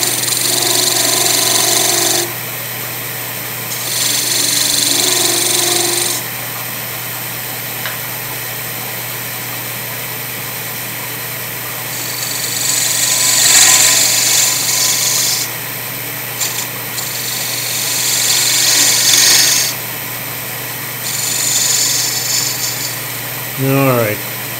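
A wood lathe motor hums steadily while a tool scrapes against a spinning wooden spindle in several long passes, pausing between them, close and fairly loud.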